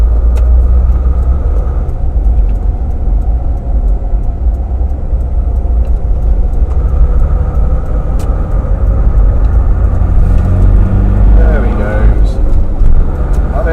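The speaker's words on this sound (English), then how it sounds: "Land Rover." A Land Rover drives along at a forge action day, its engine a steady low rumble with road noise that fills the whole stretch at close range, and faint voices surface near the end.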